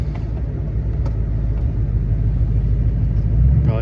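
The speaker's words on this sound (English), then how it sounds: "Because you gotta have a Duramax to pull the big stuff like that." A Duramax diesel truck engine runs steadily while pulling a 1937 Ford hot rod to the shop, giving a continuous, loud low rumble throughout that swells slightly near the end, with no talking.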